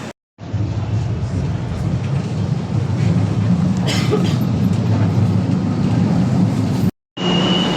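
A light rail train rumbles loudly and continuously, a steady mechanical roar from close by that briefly cuts out near the end.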